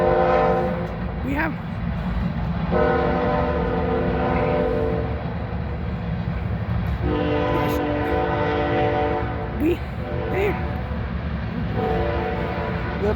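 A train passes through New Paris, Indiana, its horn sounding in long sustained blasts over a steady heavy rumble of rolling wagons, loud and close, with brief speech in the background.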